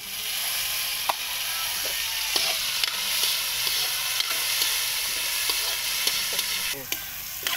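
Tomatoes going into garlic frying in a pan for a Bulacan-style coconut-milk seafood dish: a loud, steady sizzle and hiss with scattered clicks of a stirring utensil, close up and without speech.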